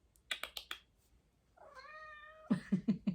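A cat meows several times at close range, a short run of bright calls followed by one long drawn-out meow and then a burst of lower, quick cries, with no talk.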